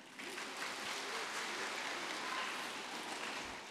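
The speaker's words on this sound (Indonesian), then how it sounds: "Jadi tepuk tangan untuk mereka." Audience applause in a parish church, honoring the winners of a youth category contest. Dense, steady clapping with a rain-like hiss holds at an even level for a few seconds before tapering slightly.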